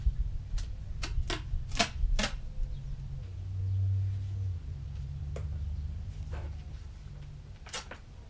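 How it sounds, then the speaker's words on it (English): Duct tape is pulled off the roll and wrapped around a foam drone-racing gate, heard as a series of sharp tearing and ripping bursts with a low hum underneath, close and fairly quiet. "Make sure you go all the way around so that the duct tape actually ends up sticking to the duct tape"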